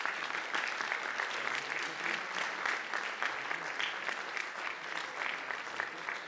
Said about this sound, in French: Vous pouvez les applaudir, ils vont venir chez vous.